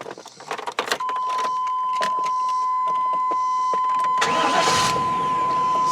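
Keys jangle, then a chime sounds as the key turns and a 1998 GMC Suburban C1500 SL with a 5.7L V8 cranks and fires, settling into a steady close idle, with no talking.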